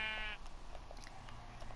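A sheep bleats in the video game Minecraft, one short, faint bleat at the start, followed by quiet game background.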